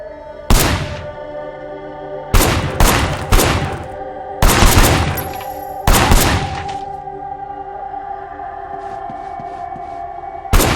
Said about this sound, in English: Officer Shen, take up a firing position